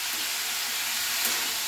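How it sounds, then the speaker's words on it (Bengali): Dried red chilies and black cumin seeds being stirred as they fry in a pan, giving a steady, continuous sizzle with faint scraping, close and even throughout. "এবার আমি এটা আবার নাড়া দিয়ে দিচ্ছি। এটা কিন্তু বারবার নাড়তে হবে"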